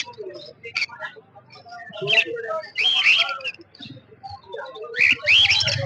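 Blue yellow-sided conure parrots at a busy bird market give sharp, shrill screeches in short bursts alongside scattered chirps, with someone talking nearby through the calls.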